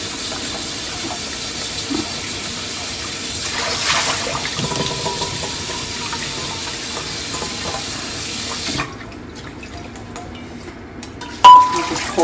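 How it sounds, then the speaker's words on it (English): Cold water runs from a kitchen tap over strained noodles in a sink, a steady rushing hiss that stops abruptly near the end, leaving quieter kitchen noise. "we normally strain it, right? And put some cold water over it."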